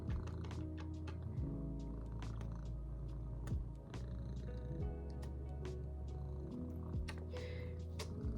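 A cat purrs steadily and very close, a low continuous rumbling with rhythmic breaths, alongside occasional soft clicks and rustles.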